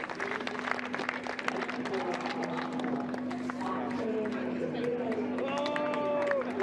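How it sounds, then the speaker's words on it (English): A crowd at a Ferrari Challenge Europe race trophy presentation at the Nürburgring cheers and claps steadily in the background, while a commentator talks over it and a few whistles rise near the end. "there is the cheer right on cue"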